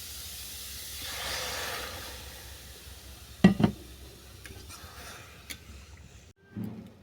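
Grated radish for halwa frying in a pan gives a soft, steady sizzling hiss, with a few louder clatters of stirring partway through and a brief clunk near the end.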